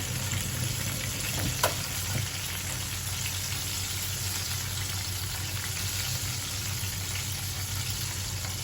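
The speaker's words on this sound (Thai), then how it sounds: "ทอดให้กรอบเหลืองทองเลยนะคะ" Minced pork wontons deep fry in hot oil, giving a dense, continuous bubbling sizzle at an even level, close up with one brief clink near the start and no speech.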